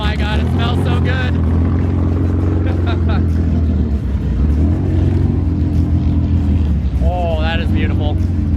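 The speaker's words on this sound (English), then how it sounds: "Cars making loud noises, this is awesome." McLaren F1 engines rev loudly and continuously at close range, with a steady rumbling roar throughout and people's voices occasionally audible over it.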